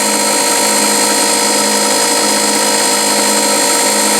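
Motor on a 9x20 lathe running with its belt rubbing the pulley, a loud, steady, buzzing whine with a harsh edge that holds the same level throughout.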